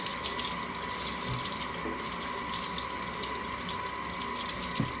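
Tap water runs steadily into a sink while ripe bananas are rinsed, a constant close hiss and splash with no talking.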